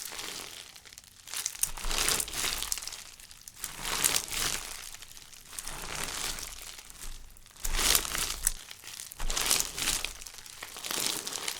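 Crunchy slime squished up close in rhythmic waves, each squeeze bringing a burst of crisp crackles and pops, separated by short lulls.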